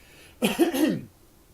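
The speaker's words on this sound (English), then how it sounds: "I got to clear my throat real quick" A man clears his throat once, a short rough two-part rasp rising out of a quiet room, close to the microphone and alone without speech.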